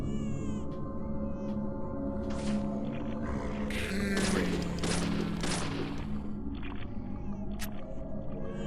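A few sharp gunshot bursts from the video game Deadly Premonition ring out in a cluster midway, over game ambience and background music, with someone talking around them.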